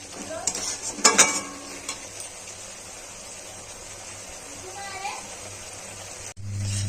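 Spice paste with a bay leaf sautés in a pan, soft sizzling under a spoon that stirs and scrapes against the metal, with a few clattering knocks early on, close by, while someone talks.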